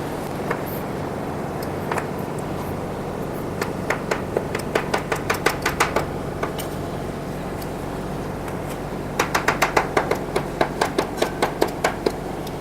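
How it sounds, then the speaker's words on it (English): A knife chops tempeh into cubes on a board in two bursts of rapid, evenly spaced cuts separated by a pause, close and crisp over a low steady hum. "Firstly, cut the tempeh into cubes."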